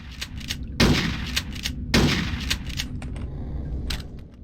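Gunfire in Hitman: Codename 47, two loud booming shots about a second apart, each trailed by echoing rumble, with fainter crackling shots around them and no voices.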